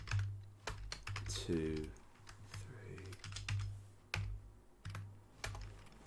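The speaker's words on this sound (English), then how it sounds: "I'm actually just going to type in the words" Keys clack on a computer keyboard in short, uneven bursts of separate taps, close and fairly soft, while a person speaks briefly between them.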